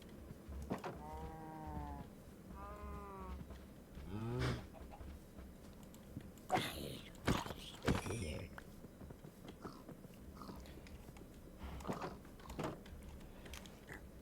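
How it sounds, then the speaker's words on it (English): Blocky cows in a Minecraft farm give a few short, synthetic moos with gaps between them, some near and some farther off, and quick clicks and game noises around them. "And now let's try and get as many cows in the farm."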